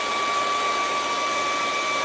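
A dryer blows on the wet paint of a kangaroo-in-sunset painting, giving a constant, even whir with a thin high whine running through it, loud and close with no break.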